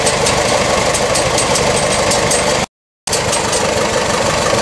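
A Minneapolis Moline tractor of about 35 horsepower runs steadily, a loud, even engine drone that holds without a break apart from one short dropout in the sound.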